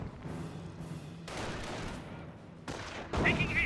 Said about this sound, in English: US sniper firing away